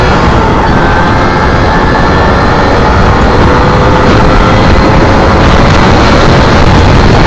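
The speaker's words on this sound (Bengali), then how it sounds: "এবার দেখেন বাইকটার রেসপন্স দেখেন" Loud, steady engine roar of a Yamaha RX100 motorcycle riding along in second and third gear, a continuous broadband drone with no pauses throughout.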